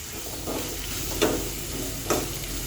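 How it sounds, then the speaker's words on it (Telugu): Ingredients for vada curry fry in a pan under a constant close sizzle, with a few soft stirring scrapes spaced about a second apart. "బాగా వేగనిస్తేనే టేస్ట్గా ఉంటుంది."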